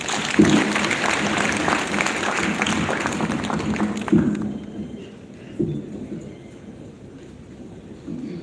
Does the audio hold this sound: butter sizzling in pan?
no